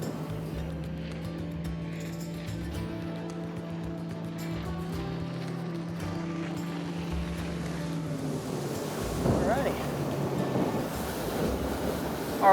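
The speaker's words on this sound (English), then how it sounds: "riding over a wave and into the next one. Not too fast." A Skeeter bass boat runs through rough water at moderate speed, with a steady engine drone and wind rush, then a louder splashing slap as the hull rides over a wave and hits the next.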